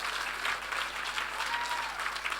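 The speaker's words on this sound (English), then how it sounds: "Give a round of applause for her mom." A comedy show audience applauds a comedian's mother with a steady, fairly soft wash of clapping that runs throughout, no voices on top.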